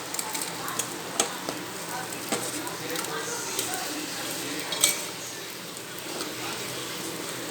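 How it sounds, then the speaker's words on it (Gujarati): Crisp saffron jalebi dipped into sugar syrup gives a continuous soft sizzle and bubbling hiss up close, dotted with light utensil clicks and taps. "એકદમ સરસ કડક થઈ જાય પછી એને ચાસણીમાં નાખી દેવાની છે"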